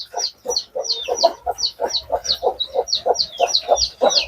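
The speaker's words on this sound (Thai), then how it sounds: "ไก่บ้านพันธุ์พื้นเมือง ตัวเลี้ยงลูกอยู่สามตัวนะครับ" Native Thai backyard chickens, a hen with three chicks, cluck close by in a rapid, regular string of short calls mixed with higher chick peeps, loud and without talk.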